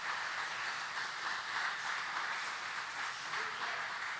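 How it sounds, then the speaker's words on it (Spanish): Steady, fairly faint applause from a church congregation during a general service, a continuous even wash of clapping with no voices standing out. "Yo te pido que le regales un aplauso al Señor, pero dáselo con fuerzas"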